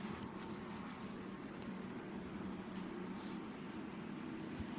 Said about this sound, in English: the BMW comes towards us